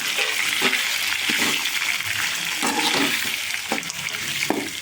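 Onions sauté in a pan for an egg dish, a steady close sizzle with repeated scraping and clacking stirs at irregular intervals.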